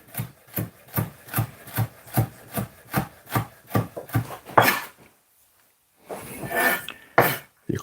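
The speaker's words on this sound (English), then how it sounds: "We're gonna julienne as fine as possible" A knife julienning food as finely as possible on a wooden board: a fast, steady run of about fifteen crisp, close chops, then a pause and a few more scraping strokes.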